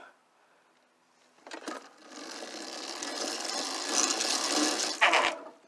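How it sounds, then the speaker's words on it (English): Chain rubbing against the top of the motor mount on a CYC X1 Pro mid-drive e-bike conversion, a steady scraping mechanical whir that starts after a quiet moment and holds loud and close, ending with a few clunks. "you'll be hearing this chain rub up against the top of here."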